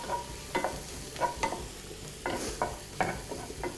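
Mushrooms sizzle in a hot pan while a utensil scrapes and stirs in irregular bursts, close by.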